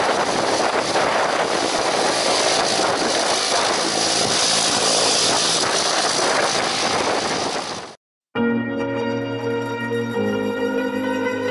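Steady, loud propeller and engine roar from a skydiving aircraft at a skydiving center, with wind buffeting throughout, cutting out briefly and giving way to a lower, tonal engine hum near the end.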